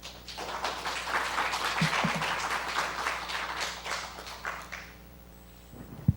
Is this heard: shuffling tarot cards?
no